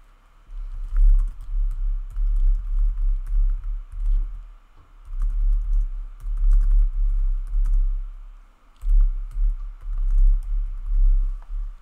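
Someone types on a computer keyboard in irregular runs of soft, muffled key taps with brief pauses between bursts, close by and without talking.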